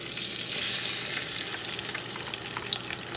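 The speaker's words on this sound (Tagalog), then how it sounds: "Ayan, una natin i-prito yung ating tokwa." Tofu fries in a pan with a steady close sizzle and crackle, small pops rising over the hiss and faint stirring.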